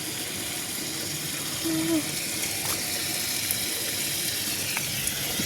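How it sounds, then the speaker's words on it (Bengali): Water pours steadily into a basin and fills it, making a continuous broad rush at moderate loudness, with a few faint background sounds. "ওই দিকে গামলা বসিয়েছি, জল ভরছে গামলায়"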